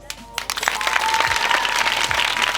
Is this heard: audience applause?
yes